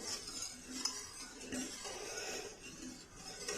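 A spoon stirs a Marie biscuit dessert mixture in a pot on the stove, soft continuous scraping and faint clinks, quiet and close with no talking.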